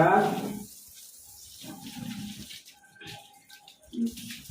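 Water runs and splashes while a bathroom is washed, with faint running-tap sounds and intermittent splashing under a distant voice.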